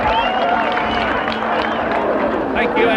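A crowd at a 1990s British Touring Car Championship race roars and cheers after a crash, a dense continuous wash of voices with a commentator talking over it.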